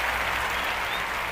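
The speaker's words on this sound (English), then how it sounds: "Clap up for that" A dense spatter of hands clapping continues evenly through a short, moderately loud stretch, with no voices over it.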